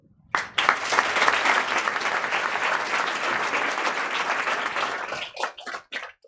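Audience applause after a start-up pitch at a business event in The Hague breaks out suddenly, holds as a dense, loud burst of many hands, then thins into scattered last claps.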